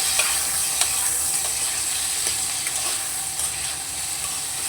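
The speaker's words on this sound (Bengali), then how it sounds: "এবার আলুগুলোকে একটু নাড়াচাড়া করে তারপরে সজনা দিয়ে দেবো আলুগুলো দেখুন একটু ভাজা ভাজা হয়ে গেছে" Potatoes frying in a pan for a vegetarian posto dish with drumsticks, sizzling steadily while being stirred, with faint scraping clicks from the utensil over a constant close hiss.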